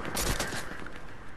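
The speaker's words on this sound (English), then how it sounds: "Who's shooting at me? I can't even see who's shooting at me." Rapid bursts of video game gunfire crackle close and loud, a dense volley that peaks early and then keeps rattling steadily through the short stretch with no talk over it.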